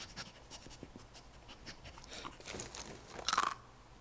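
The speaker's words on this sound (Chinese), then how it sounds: "乖狗狗。" A ghost dog in the Luigi's Mansion 3 video game pants in quick, faint repeated breaths, followed by a brief louder crunchy burst near the end.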